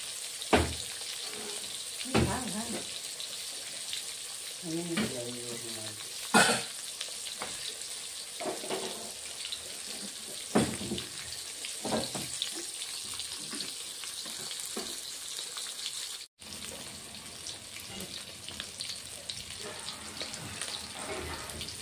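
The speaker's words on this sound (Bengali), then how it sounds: "মাছ ভাজা হয়ে গেল, এখন নামিয়ে দিব।" Katla fish fries in oil with a continuous close sizzle, broken by several sharp clatters and scrapes of a utensil in the pan, with no voices.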